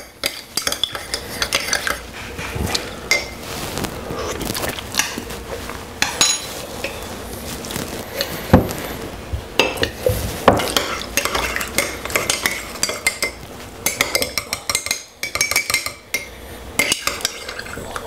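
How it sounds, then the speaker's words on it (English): A spoon stirs lemon tea sweetened with honey and holding two lemon slices in a cup, clinking and scraping against the sides in a long, busy, close series of metallic taps and swirls. "Put 2 slices of lemon inside of it and give it a lovely mix"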